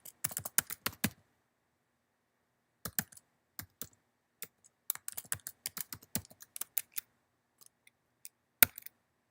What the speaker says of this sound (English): We type in our password.